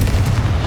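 Confringo fire spell exploding in Hogwarts Legacy, a short booming burst of blast noise filling the moment, loud and close.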